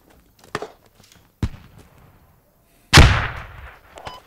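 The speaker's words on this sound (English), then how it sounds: "Grenades in this fucking tree line to my north" Airsoft grenades bursting in a tree line during a skirmish game: two sharp pops early, then a loud, close blast with a lingering hissing tail, followed by faint rustling.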